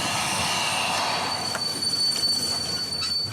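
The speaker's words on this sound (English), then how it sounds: "Once again, the train begins to slow down." A slowing train on Congo's rough railway lets out a steady, piercing squeal of wheels on rails, loud and continuous over a dense rumbling wash of carriage noise, with no voices.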